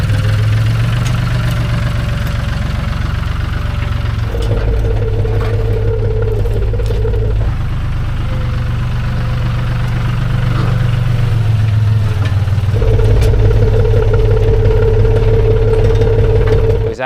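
A tractor fitted with a blade runs at a steady idle close by on a drainage job site. The loud, low engine drone keeps going throughout, with small shifts in pitch and a faint rattle.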